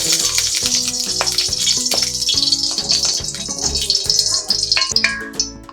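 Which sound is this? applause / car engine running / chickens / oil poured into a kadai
oil poured into a kadai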